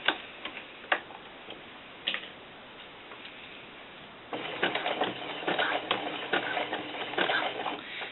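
A sewing machine stitches tank top fabric for a doll, first in sparse clicks and then in a steadier run of rapid mechanical ticking, close and fairly loud, with no talk.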